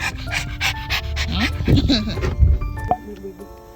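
A dog pants rapidly and excitedly close by, quick breathy bursts mixed with a person talking and whining animal noises.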